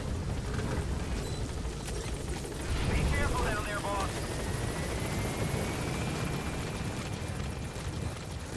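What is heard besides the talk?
helicopter flying in Metal Gear video game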